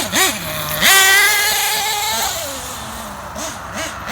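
A Losi 8ight RTR nitro RC truggy engine buzzes loudly up close, its raspy whine sweeping up and down in pitch through a few short revs and one longer sustained burst.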